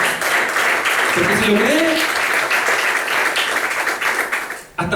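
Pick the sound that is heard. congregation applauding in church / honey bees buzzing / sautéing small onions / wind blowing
congregation applauding in church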